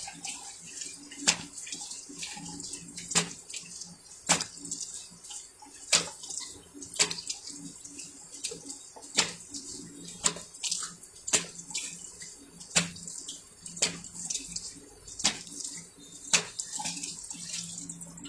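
Water splashing as a face is washed, a series of sharp, separate splashes roughly every second over a faint background of running tap water.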